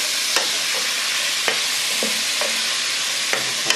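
Onions fry with chicken in a pan under constant sizzling, while a utensil scrapes and knocks against the pan several times as they are stirred, close and loud with no talk.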